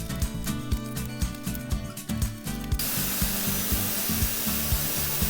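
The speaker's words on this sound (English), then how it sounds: "here's me sanding that off so I can try to get it to match the chair" An oak footstool is sanded with repetitive rubbing strokes, close and steady, over a rhythmic low thumping and a background of music that cuts out midway, leaving a broad hiss; no one speaks.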